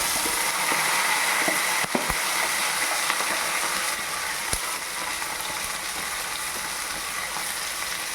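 Onions and green chillies frying in sesame oil give a steady, dense sizzle throughout, with a few sharp clicks and knocks of a utensil against the pan standing out near the start and middle.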